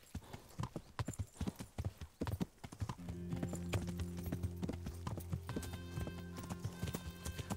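Horse hooves clip-clopping in the medieval role-playing game Kingdom Come: Deliverance, a steady series of close, sharp strikes, followed by a sustained tonal music bed entering partway through.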